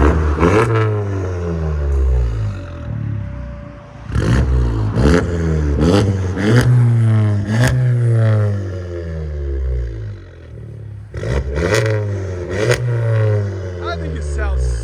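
A 2020 VW GLI turbo with downpipes and straight pipes revs repeatedly, loud and close, in sharp rising bursts with a gap in the middle.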